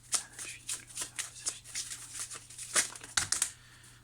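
Tarot cards being shuffled and drawn during a sentimental reading, a close run of soft riffling flicks and papery slaps with a few sharper snaps near the end, quiet and steady.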